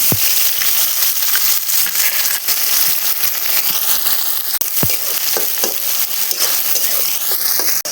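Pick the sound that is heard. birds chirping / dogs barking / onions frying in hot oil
onions frying in hot oil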